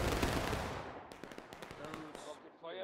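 Musket volley in the Civil War game War of Rights, set at Antietam: a dense, loud burst of overlapping gunfire fades into scattered sharp shots, with voices calling out toward the end.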